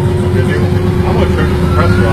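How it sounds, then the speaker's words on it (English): An air compressor runs loudly and steadily in a workshop where a Model T chassis is being built, a constant droning hum with a broad noisy rush and no breaks. "I'm going to turn the compressor off."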